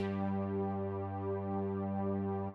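A thick, wide synth chord with super unison held steadily for a couple of seconds, rich and slightly shimmering, then cutting off.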